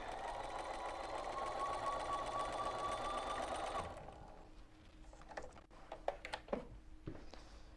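A sewing machine stitches quilted table topper pieces with a fast, steady whirr for about four seconds, then stops, followed by quiet handling of fabric and a few light clicks and taps nearby.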